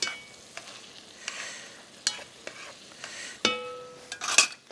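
A spoon or spatula pushes peppers, onions and tomatoes around a pan for a summer vegetable gratin, giving soft scraping strokes and knocks over a faint steady sizzle, close and moderately quiet, with no talking.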